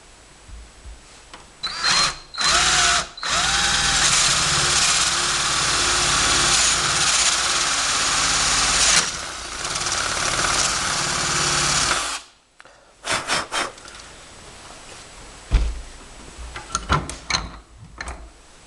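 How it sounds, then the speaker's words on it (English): A power drill boring a half-inch hole in wood whines loudly for about ten seconds at a steady pitch, with brief starts before and short stuttering bursts after. "drill a half-inch hole from the top right down to the first hole"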